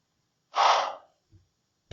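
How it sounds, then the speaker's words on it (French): A single breathy exhale, soft and airy like an impatient sigh, rises and fades within half a second, followed by a faint snort and a short click against silence. "Une respiration lointaine, impatiente."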